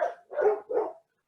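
A dog barks three times in quick succession, close and clear with no other sound around it.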